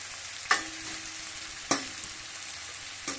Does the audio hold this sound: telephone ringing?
no